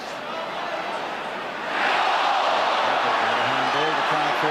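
A football crowd at a 1984 match roars in appeal for a handball, a broad wash of voices swelling louder about midway and holding, with a commentator talking over it.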